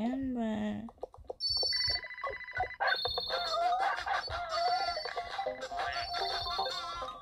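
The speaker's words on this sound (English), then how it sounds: "Whoa, too much phone calls." A telephone rings repeatedly in a run of bright electronic ringtone bursts that overlap and shift in pitch, fairly close, while voices exclaim and talk over and around the ringing.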